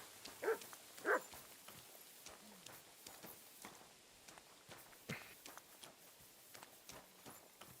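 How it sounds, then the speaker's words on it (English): A dog in a video game gives two short, sharp barks near the start, then quiet footsteps and faint movement patter continue softly in the background. "You silly doggy."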